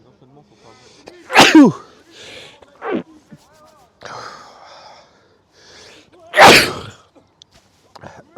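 A loud, sharp sneeze bursts out amid conversation at a sports match, followed later by a second forceful sneeze-like burst, with speech in between.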